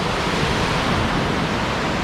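A brook in northern Vermont, swollen by flooding, rushes beneath a road bridge in a steady, loud, close roar of water that never lets up, with no voices.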